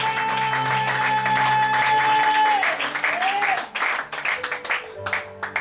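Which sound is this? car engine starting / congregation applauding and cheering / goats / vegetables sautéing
congregation applauding and cheering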